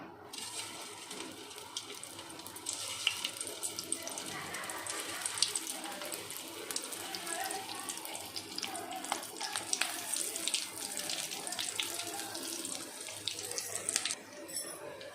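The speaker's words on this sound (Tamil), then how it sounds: "இப்போ நம்ம இந்த உருண்டையை ஃப்ரை பண்ணி எடுத்துக்கலாம்" Soya chunk balls deep-frying in hot oil in a kadai: a continuous hissing crackle of bubbling oil, moderately faint and steady throughout, with sputtering bursts that swell in the middle.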